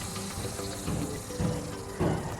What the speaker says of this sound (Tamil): ஸோ லித்தியம் வந்து நம்ம தண்ணியில் போட்டோம்னா தண்ணியும் லித்தியமும் ரியாக்ட் ஆகும்போது